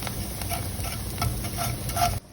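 Tomatoes cooking in a pan with toasted onions and garlic for a pomodoro sauce, a steady sizzle with repeated soft stirring scrapes, no speech, cutting off abruptly at the end.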